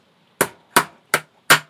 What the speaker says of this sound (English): This bushing is the first part to install, which acts as a bearing for the tailstock feed screw and needs to be tapped into place.